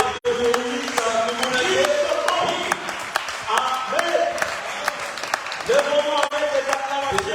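A church congregation claps and cheers in a broad, lively wave after a sermon, with raised voices calling out over the clapping and a brief spoken word near the start.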